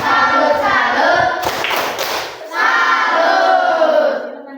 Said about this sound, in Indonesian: Tepuk salut untuk kalian semuanya.